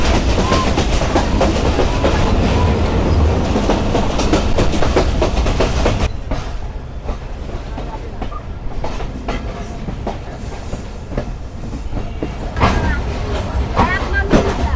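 Banglabandha Express intercity train running at speed, a loud continuous rumble and rattle of coaches that drops to a steadier, quieter roar halfway through, with faint clicking of wheels on rail joints.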